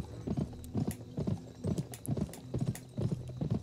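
A horse's hooves clip-clop in the PS2 video game Gun, a fast, even gallop of loud hoofbeats in regular bursts, heard alone with no talk.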